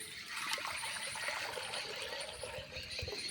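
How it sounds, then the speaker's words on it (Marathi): Water trickles and splashes as it is poured into a pot for Khandeshi khichdi cooked on a chulha, a soft, continuous stream that is fairly faint and heard without any talking. "त्यासाठी मी आधी पहिले पाणी गरम करायला ठेवून देते"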